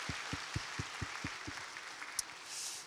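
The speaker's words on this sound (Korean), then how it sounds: "우리 박수하겠습니다" A church congregation at a Korean Thanksgiving Sunday intergenerational worship service claps together, giving a fairly soft, steady wash of applause with a loose rhythmic beat of hand claps that tapers off.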